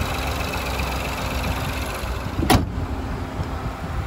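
A 2016 Ford EcoSport Trend engine idles smoothly and steadily at close range, a constant low hum with one brief sharp click or thump partway through and no voices.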